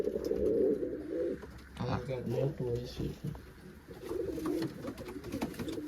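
American pigeons in a loft give low, throaty coos in a steady run, close by and clear, with a pause in the middle before the cooing resumes.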